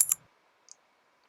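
Key clicks on a custom-built shortcut keyboard: a sharp double click at the start, then a single lighter click a moment later, crisp and close in a quiet room.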